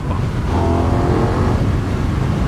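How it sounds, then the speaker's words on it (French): A Benelli 752S motorcycle engine pulls hard under acceleration, a loud continuous droning roar that rises slightly in pitch and holds steady throughout, with no voices over it. "le bruit moteur, le caractère moteur en général est plutôt sympa"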